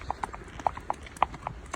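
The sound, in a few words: horse hooves clip-clopping while hacking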